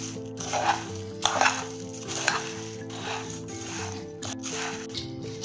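Spices being mixed into fried khari boondi in a large vessel, a steady soft sizzling rustle with repeated scraping strokes of a spoon, close and alone.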